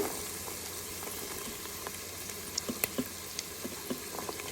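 Potatoes and beans sizzling and frying in a pan with softened onions for a vegetable biryani, a steady close crackle with occasional sharper pops and stirring scrapes.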